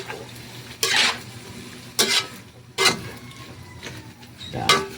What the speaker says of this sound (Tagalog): Siyempre ating haluin mga idol.